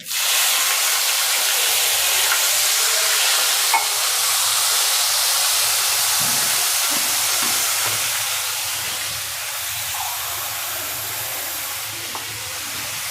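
Water poured into hot oil tempered with mustard seeds, cumin, curry leaves and asafoetida while making Surati rasawala khaman, giving a loud, steady sizzling hiss that lasts throughout, with faint stirring clatter underneath.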